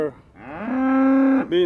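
A cow lets out one long, drawn-out moo, close and loud, with the start of another call at the very end, on a ranch where mother cows are being sorted.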